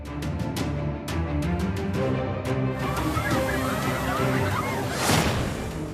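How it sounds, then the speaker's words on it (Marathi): Big sea waves crash onto a beach in Oman in rainy weather, a continuous sloshing roar of surf with a louder surge of breaking water near the end. "आता पुन्हा एकदा पहा केवढी मोठी ही लाट उसळली."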